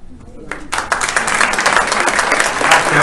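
An award-ceremony audience breaks into applause after a quiet start, building quickly into loud, sustained clapping that continues to the end.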